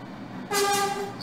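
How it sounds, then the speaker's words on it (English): Simulated New York subway 5 express train bound for the Bronx in the OpenBVE train simulator, giving a loud sustained horn-like tone with harmonics over rumbling rail noise. "This is a Bronx-bound 5 express train."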